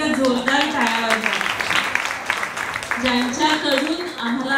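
Audience applause at an 80th birthday celebration for a teacher, clapping that carries under an amplified speaker's voice throughout.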